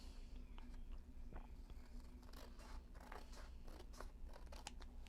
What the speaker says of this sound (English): I'm going to take some scissors